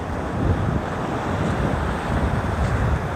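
Strong sea waves and gusting wind at Geojin harbour in Goseong, a loud, continuous roar of surf and wind buffeting the microphone, with swells rising and falling and no voices.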